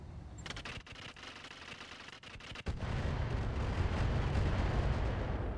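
Missiles fire from a Stalker mech in the battle game RogueTech: rapid sharp launches crackle over the first seconds, then a heavy rumbling barrage of impacts builds and holds loud to the end.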